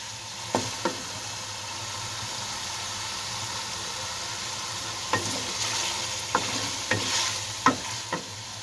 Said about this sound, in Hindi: खड़े मसालों में गोश्त को 5 मिनट तक इसमें भूनूंगी